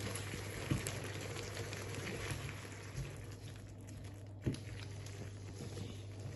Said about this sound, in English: So we are going to leave this to simmer for a couple more minutes.